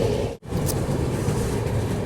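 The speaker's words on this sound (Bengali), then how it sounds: "ট্রেন এবার বর্ধমান ঢুকছে" The Ananya Express rolls into Bardhaman station with a steady, loud low rumble of wheels and carriages, broken by a brief dropout near the start before the running noise resumes.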